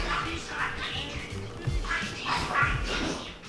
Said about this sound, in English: If you guys missed what my bird just said there, rewind it and see if you can hear it.